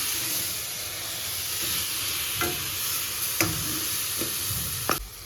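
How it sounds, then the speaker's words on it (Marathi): Pumpkin being sautéed and stirred in a pan for Marathi pumpkin kheer over low heat: a steady sizzling hiss broken by a few scraping strokes and clacks of the spoon against the pan. "परतून घ्यायचं. व्यवस्थित दमानं हलवायचं."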